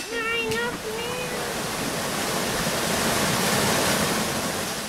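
A waterfall below a small weir in the Swiss National Park roars as a dense, steady broadband rush, loud and close, with a brief faint voice-like tone near the start.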